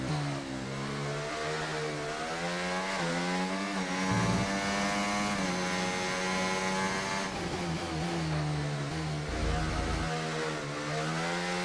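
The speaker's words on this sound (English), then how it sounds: "the first thing I noticed in the Alpine is the engine sound." Alpine Formula 1 car engine in the F1 24 racing game, a loud, continuous high-revving whine that climbs and drops through gear changes, with brief dips around shifts and no talking.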